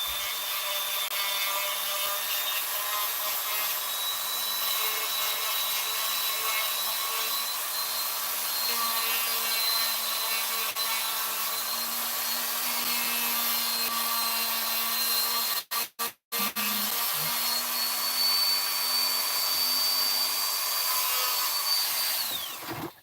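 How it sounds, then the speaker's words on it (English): A Dremel rotary tool shaves wood from a TARDIS model with a steady high-pitched whirring grind that runs almost continuously, close and loud, broken by a couple of very short pauses near the end. "There might be a bit of noise now because I'm going to use my Dremel to just shave a bit off."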